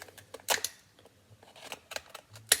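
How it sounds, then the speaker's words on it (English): Sharp scissors snip through a cooked lobster shell in a few crisp, close clicks and crunches, separated by quiet pauses. "I'm just going to use the scissors again to cut the shell"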